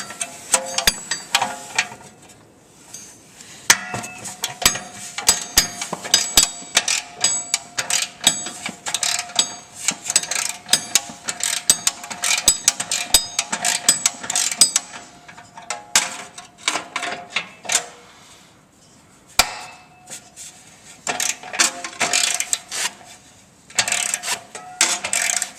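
Ratchet wrench backing out the bolts on the shroud of a 2002 Ski-Doo Grand Touring 380F snowmobile. Close, sharp bursts of rapid clicking come in repeated runs with short pauses between them, fairly loud and with no talk over it.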